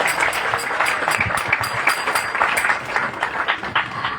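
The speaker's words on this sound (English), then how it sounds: "Let's give them a huge round of applause." Audience applause at a Krishna Janmashtami tent festival program, a crowd clapping briskly and unevenly nearby, with individual claps standing out in a lively rhythm and no speech over it.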